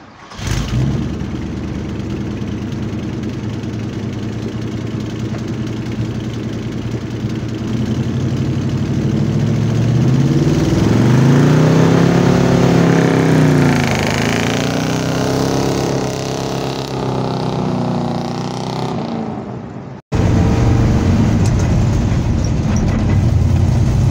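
A 1975 GMC Custom Deluxe C10 truck engine starts, idles and then pulls away, revving up and down through gear changes in a steady mid-pitched drone close by, with a brief cut near the end.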